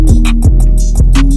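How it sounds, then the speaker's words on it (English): Hard-hitting 808 hip-hop beat produced in Logic Pro X, with deep booming bass notes and punchy kicks landing in a steady loop under crisp hi-hats, loud and close with no voices. "So the whole beat with the hard hitting 808 sound like this."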